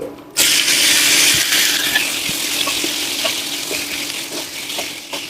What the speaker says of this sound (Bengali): এরপরেই ম্যারিনেটেড চিকেনটা দিয়ে দিব।